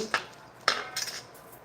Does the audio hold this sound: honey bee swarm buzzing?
no